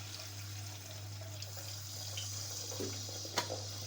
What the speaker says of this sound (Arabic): ودلوقتي هزود ده ميه كده.